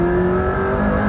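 A car engine revs loud and close at a steady high pitch while the tires are warmed up, a continuous brief roar with no talk.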